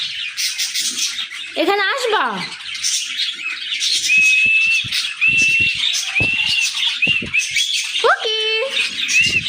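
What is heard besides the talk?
pet parrot squawking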